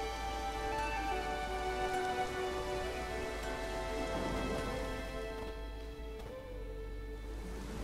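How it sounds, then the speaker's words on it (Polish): Steady rain falls in The Witcher 3 village scene, a dense continuous patter under a low ambient drone, constant and fairly loud with no voices. "nie ma co stać na deszczu"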